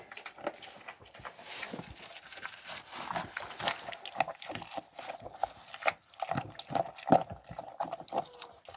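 A goat drinks from a bucket, giving irregular wet lapping and slurping splashes close up, with soft, intermittent gulps and patters throughout.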